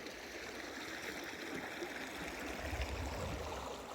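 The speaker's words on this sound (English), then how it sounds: "This small little creek right here has a bunch of sharp little bends, bunch of little turns and twists." Small Colorado mountain creek with sharp bends rushes steadily, a continuous close, even gurgling wash of water with no voices.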